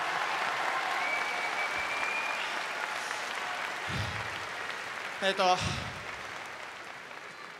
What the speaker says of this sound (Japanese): ちょっと拍手でお祝いしてもらえたら嬉しいです。